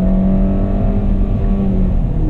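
A LADA car with a robotic gearbox accelerates under throttle, its engine a steady, loud drone with rising harmonics heard from inside the cabin, with no voices over it.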